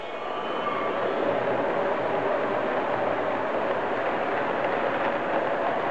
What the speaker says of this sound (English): We'll get to see that freight train come across the bridge, comes right at us, makes the turn, puts on his brakes.